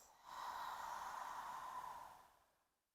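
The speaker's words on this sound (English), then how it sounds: "And then exhale, open mouth." A long, breathy exhale through an open mouth during a guided meditation, close and soft, swelling for about two seconds before fading out into quiet.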